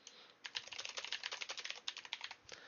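Rapid, steady clicking of keys on a computer keyboard, fairly quiet and close, forming a continuous run of light taps for a couple of seconds before trailing off, with no voices.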